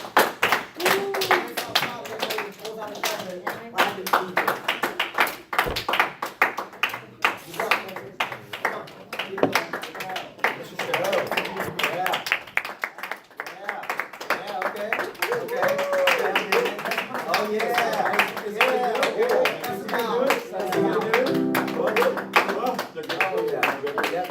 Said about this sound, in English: Give Spencer a round of applause when it comes up to folks